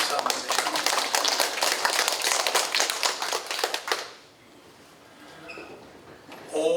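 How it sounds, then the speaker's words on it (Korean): A church congregation claps together after a hymn of praise, brisk loud clapping for about four seconds that then stops abruptly, leaving a quiet room with faint stray sounds. "박수 한번 해주세요"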